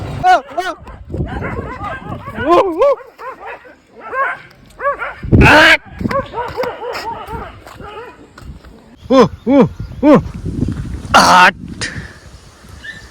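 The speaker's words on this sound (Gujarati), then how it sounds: "ઘણો જોરમાં કૂતરો લડાઈ ગયો ની" Dogs snarl and bark in a fight of ten to fifteen dogs near a petrol pump, with yelps, whimpers and growling bursts, while people talk over the commotion; loud and close.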